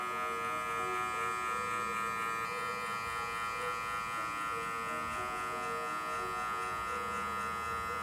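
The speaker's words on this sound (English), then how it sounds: "just keep a slow tempo and just press that middle of the part of the clipper" Electric hair clippers buzz steadily and continuously while cutting hair for a mid fade at a barber session, a close, even motor hum with slight shifts in pitch as the blade glides up and down.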